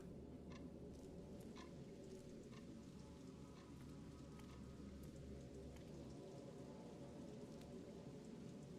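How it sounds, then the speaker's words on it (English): Rain pouring outside in the video game Fatal Frame: Maiden of Black Water, a steady hiss of falling drops with scattered ticks of water, continuous and moderately faint, with no voices. "The rain is still pouring outside."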